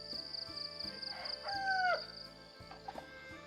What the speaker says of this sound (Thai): มันได้ยินเสียงไก่ป่า